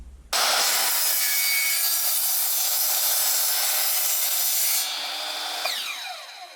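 A power saw cuts a hatch opening for a 1542 jon boat, giving a loud, steady, harsh whine that runs for several seconds and then eases off as the cut finishes.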